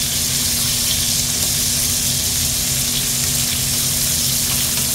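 Food fries in a pan with a loud, steady, close sizzle that holds throughout, with no talk.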